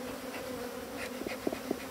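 Honey bees buzz around an opened beehive, a continuous droning hum with a few individual bees passing close by with slightly louder whines.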